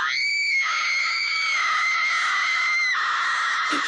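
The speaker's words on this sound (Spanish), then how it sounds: "la calma aparente se quebró con un grito desgarrador" A harrowing, piercing scream in a dramatic audiobook scene, one long sustained shriek with a brief break and pitch shift, loud and close, alone without talk.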